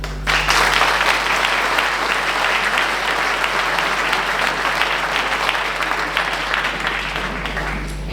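An audience at a Viviers town New Year's greetings ceremony applauds a municipal councillor, with steady, dense clapping that holds loud and even for about eight seconds.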